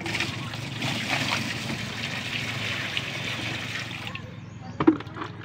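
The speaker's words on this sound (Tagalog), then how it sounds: "Buhusan natin ng tubig." Water poured into a washing machine tub during cleaning makes a steady close rushing splash that stops abruptly near the end, followed by a faint knock.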